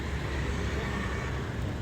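Continuous street traffic on a road in Vietnam, a dense wash of engine rumble and road noise that stays steady and fairly loud throughout, with no clear individual vehicle passes.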